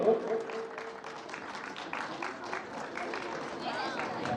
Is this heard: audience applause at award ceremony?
yes